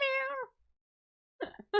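A human voice imitates a cat meowing, giving one drawn-out, tonal meow followed by a pause and then a shorter, rougher meow, close and fairly loud.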